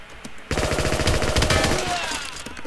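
A sudden sustained burst of rapid automatic gunfire in the online shooter WarRock, loud and close, rattling for about two seconds after a brief quiet start.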